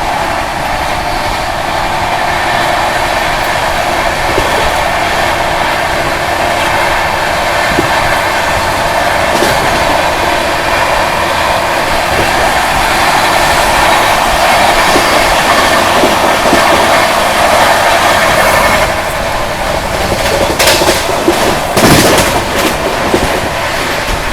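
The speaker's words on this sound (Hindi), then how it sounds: "अपनी राजधानी अभी ओवरटेक करने वाली है उधमपुर दुर्ग सुपरफास्ट को" A Rajdhani Express train overtakes the Udhampur Durg Superfast, which waits on a loop line, giving a steady, loud rumble of passing coaches with clickety-clack wheel beats that build toward the end.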